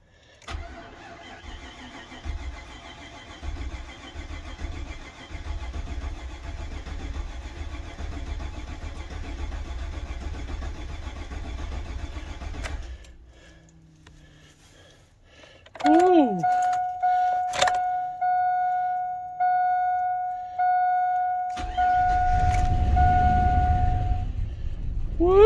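An old GMC truck that sat in the woods for five years cranks and catches, with a long grinding crank, a pause, then the engine firing and running rough and loud, along with a steady whine and people talking nearby.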